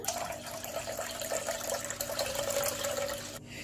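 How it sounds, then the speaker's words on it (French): Lukewarm water is poured into the bowl of a kneading machine for brioche dough, a steady, close, soft splashing stream that stops abruptly at the end. "Je vais ajouter 200 ml d'eau tiède."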